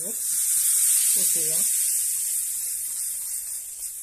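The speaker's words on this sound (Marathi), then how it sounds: "ही गरम गरम फोडणी आपण डांगरावर ओतणार आहे" Hot tempering of spices in oil poured over urad dal dangar, a broad loud hiss that fades gradually over a few seconds, with a brief burst of voice near the start.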